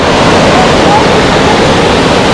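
A loud, constant roar of rushing water from the nearby Khasada Waterfall near Daringbadi, Odisha, a small waterfall, fills the whole moment without a break.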